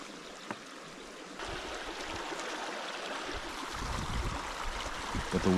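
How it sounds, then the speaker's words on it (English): A shallow stream, Wairakau Stream in Northland, New Zealand, burbles and rushes steadily nearby, the flowing water growing slightly louder and fuller toward the end. "The second crossing of Wairakau Stream is a little bit wider"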